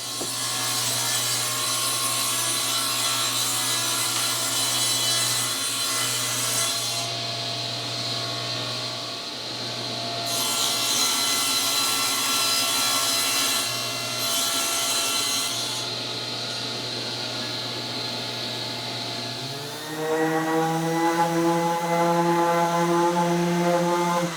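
A power saw whines continuously as it cuts a rabbet in wood along a fence, the pitch dipping and rising with the load, then spinning up sharply near the end.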